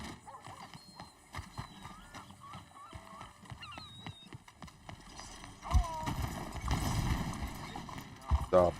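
Horse hooves clip-clop in Red Dead Redemption 2 under frequent talking, joined by a whinny and louder galloping thuds toward the end.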